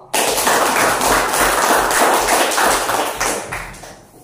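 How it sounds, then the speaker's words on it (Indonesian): A classroom of students clapping for a group, loud, dense and close, sustained for about four seconds before tapering off. "kita berikan tepuk tangan buat kelompok"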